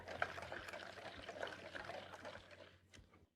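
Milk poured into a dough mixture for a pastry, a soft brief liquid trickle and splash, faint and close, tapering off after about three seconds.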